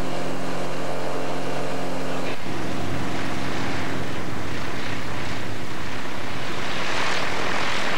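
A turbocharged 252 light airplane's engine roars at full throttle, a loud, steady propeller drone that stays close and constant throughout with no voices.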